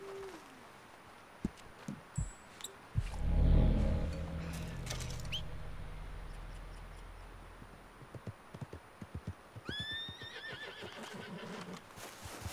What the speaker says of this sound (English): I think I'm gonna get on my horse here